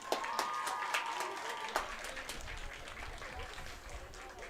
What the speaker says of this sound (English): Please give a round of applause for Allison Fisher.